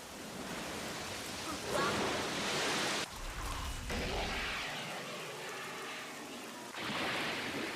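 Rain pours in a Gundam SEED anime scene as a dense, steady hiss that swells and dips in intensity, with shifting low rumbles beneath.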